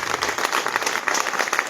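Audience applause at an all-India Hindi poetry gathering (kavi sammelan) in Sironj, Madhya Pradesh: a short burst of dense, steady clapping from a crowd, fairly close and even, with no voices over it.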